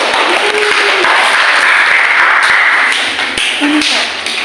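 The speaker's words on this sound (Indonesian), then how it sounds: "Terus ada Messi dan Cica, tepuk tangan dong." A group of students claps hands in a classroom during a teaching practice session, a steady dense patter of clapping that is loud and near, with a voice speaking over it.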